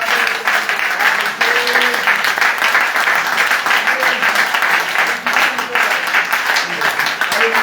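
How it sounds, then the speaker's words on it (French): Church congregation at a Passover service applauding and cheering the Lord, a dense, steady wash of clapping and voices filling the room with no pauses. "Bien-aimé, est-ce que tu peux acclamer le Seigneur?"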